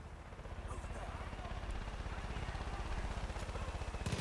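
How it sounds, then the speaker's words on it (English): A helicopter in Far Cry 5 beats with a fast, regular rotor chop that swells steadily as it approaches, loud and close, while someone talks over it. "I hear a chopper."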